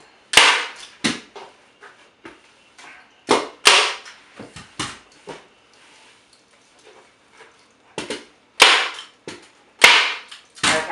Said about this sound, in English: Then you pull it really tight. And you staple the other side.